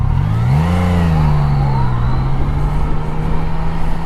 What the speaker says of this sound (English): Acceleration run, question mark?